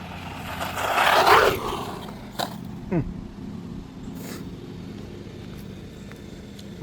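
An HBX 2997A RC car with a Supersonic 5600kv motor and 130A ESC on a speed run, its high-pitched electric whine rising and fading as it races past, followed by brief scrapes and quieter outdoor background.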